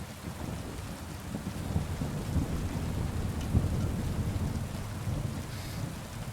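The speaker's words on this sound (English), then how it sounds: "as soon as I accepted this, a thunderstorm started" A thunderstorm in the video game Kingdom Come Deliverance II brings dense, steady rainfall with low rolling thunder rumbling underneath, continuous and fairly loud, with no one talking.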